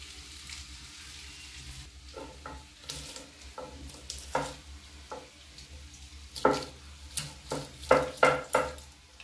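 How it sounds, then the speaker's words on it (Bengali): Onion fries in a pan until browned, a low sizzle running under repeated sharp scrapes and clinks of stirring that grow louder and more frequent toward the end, with no one talking. "পেঁয়াজটা বেশ ভালোভাবে লাল করেই ভেজে নেব"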